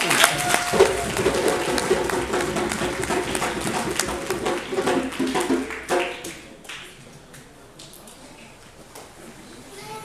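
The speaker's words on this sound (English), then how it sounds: "Give this young lady a nice round of applause." Applause from an audience at a Black History event in Akron, a clapping crowd with light tapping that fades out around six seconds into quieter room ambience and faint sounds.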